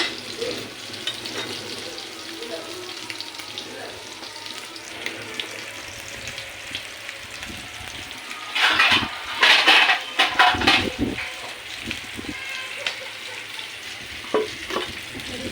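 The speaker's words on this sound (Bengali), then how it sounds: "মাছটাও ভাজা হচ্ছে" Steady frying sizzle in a pan, with bursts of louder crackling and utensil scraping in the middle, no voices.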